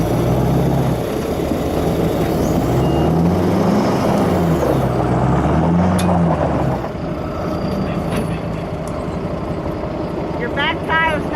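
A pickup truck engine strains loud and near while pulling a tractor stuck in a gully. Its revs surge and sag in a rising and falling drone, with wind-like rumble throughout.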